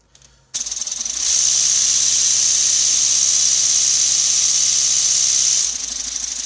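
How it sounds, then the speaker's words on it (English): Small engine running on a test stand before shipping, starting abruptly and quickly rising to a loud, steady high-pitched whine with a buzzing low hum. It holds for several seconds, then drops back to a lower idle. "This engine is pretty good."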